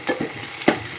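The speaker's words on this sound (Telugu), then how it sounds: "కరివేపాకు, కొత్తిమీర, వట్టిమిరపకాయలు, ఇంకా పోపు దినుసులు అన్నీ వేసుకున్నానండి" Curry leaves, coriander, dried red chillies and tempering spices sizzle in hot oil, a brief crackling hiss broken by a few quick scraping stirs, close and loud.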